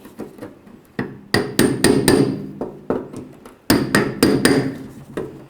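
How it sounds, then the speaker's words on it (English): Sharp metallic hammer strikes on a brass punch against a fuel pump locking clip on a Chevy S-10 fuel tank, in irregular bursts of two or three blows with short pauses, loud and close. "continue on with a brass punch and a hammer"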